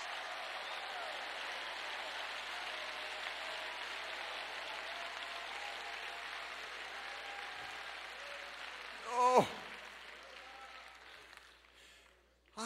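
A church congregation claps and applauds in a steady, dense wash for several seconds before it fades, with a brief voice exclamation near the end.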